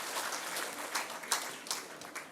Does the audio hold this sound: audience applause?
yes